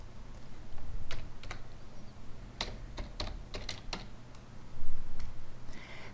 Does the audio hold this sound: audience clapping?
no